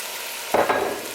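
Culantro and okra are dumped into a hot pot for callaloo soup, a sudden splashing sizzle that flares loudly, then settles into a steady fry hiss with a second brief surge.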